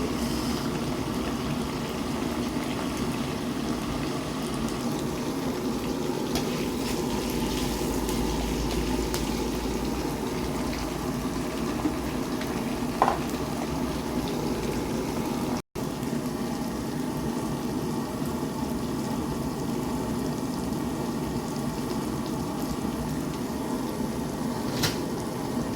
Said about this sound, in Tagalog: Guys, pinainit natin ang ating adobo guys.